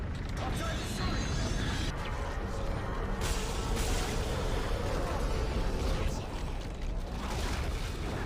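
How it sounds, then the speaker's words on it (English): A large mechanical drill in Dead Space 3 grinds and churns continuously, a loud rattling, ratcheting roar mixed with rumbling impacts that fills the whole stretch. "The drill's trying to kill me."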